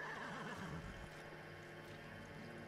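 A samurai horse in Ghost of Tsushima lets out a single neigh, a wavering whinny in the opening second, followed by soft hoof and game ambience, close and moderately loud with no talking.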